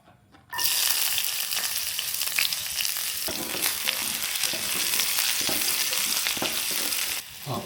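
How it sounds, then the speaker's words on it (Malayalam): Potatoes fry with onion and chilli in hot oil, a loud steady sizzle that starts abruptly and runs continuously with occasional stirring scrapes, close by and alone. "ഉരുളക്കിഴങ്ങ് എടുത്ത് ജസ്റ്റ് ഇത്തിരി ഉള്ളിമുളക് ഇട്ടിട്ടാണ് മൂപ്പിച്ചെടുക്കണോ"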